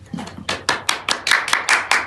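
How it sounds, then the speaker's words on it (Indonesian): A group of children in a classroom claps in a quick, fairly regular rhythm, about eight sharp, close hand claps in a row with a soft murmur under the first beat. "Kita kasih tepuk tangan dulu buat kita semua."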